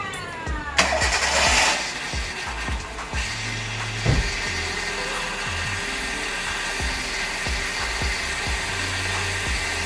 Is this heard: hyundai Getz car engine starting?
yes